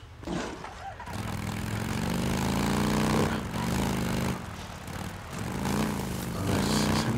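A helicopter in the Days Gone video game drones with a steady, fairly loud rotor and engine whir that swells and dips in waves, joined by a motorcycle-like engine hum, with no voices.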